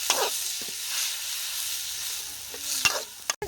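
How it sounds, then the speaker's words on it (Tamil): Ingredients for a Thoppu chicken gravy fry in oil while being stirred, a soft steady sizzle with scattered scrapes and a sharper clatter of the utensil near the end, close up and without speech. "நல்லா எண்ணெய் எல்லாம் நல்லா வதங்குற வரைக்கும் நல்லா வந்து கிளறிக்கோங்க"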